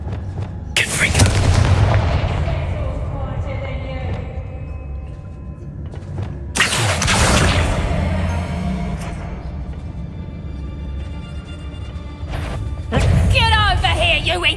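Confringo fire-spell blasts in the Hogwarts Legacy video game, several loud booming explosions with crashing impacts in bursts, a voice speaking between them.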